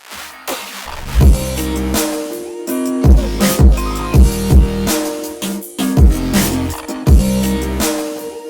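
Hyperpop beat with a gliding bass note and a reverse kick, loud and punchy, with repeating synth chords and rhythmic hits swelling in regular bars, no voices.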